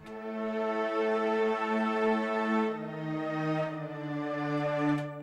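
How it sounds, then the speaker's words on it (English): A sampled cello from the BBC Symphony Orchestra Discovery Edition library plays a sustained, legato bowed melody of a few long notes, full and steady at close range, with no voices. "I basically just used a cello."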